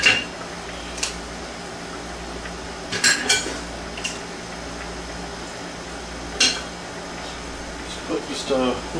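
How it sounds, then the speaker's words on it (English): Cooked mussels in wine sauce being drained and tipped into a bowl, with clattering shells, pot and cutlery clinks over a steady kitchen hum, a few sharper knocks standing out. "Drain the juice out, and then put them in your bowl or your plate."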